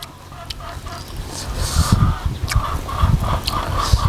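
Chickens clucking close by in a rural home setting in the morning, a series of irregular short clucks and calls rising and falling in loudness over a low background rumble, with no talk.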